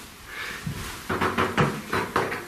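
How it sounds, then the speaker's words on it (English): A door swings shut inside an isolated cottage beside a linen cupboard, giving a run of close, solid knocks and clunks after a quiet moment, with no voices. "That's the door closing."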